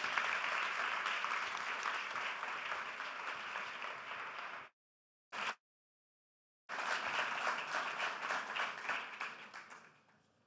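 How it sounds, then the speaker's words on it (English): Audience applause welcoming Margrethe Vestager, Executive Vice President of the European Commission, as keynote speaker: steady dense clapping that breaks off into silence midway, then resumes and fades out. "please give a very warm welcome and applause to Margrethe Vestager"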